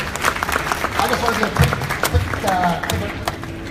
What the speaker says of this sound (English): Round of applause for these guys, fantastic effort.